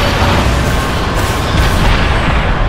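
Arm cannons fire in the Bulletstorm video game, a dense, continuous roar of booming blasts and explosions filling the whole stretch, loud and close with no pauses.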